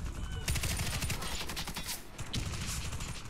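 Sustained automatic fire from an M249 machine gun in the video game Warface, loud close bursts with a brief pause before the shooting resumes.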